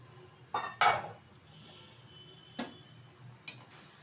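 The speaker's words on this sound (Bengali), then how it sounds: "ঢাকনাটা তুলে দিচ্ছি" A lid comes off a cooking pot of greens, two close metallic clanks, then a couple of lighter taps after a pause, quiet otherwise.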